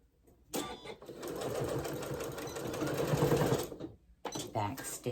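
A sewing machine stitches a potholder with a fast, continuous mechanical whir for several seconds. It stops briefly, then starts again in a short second burst.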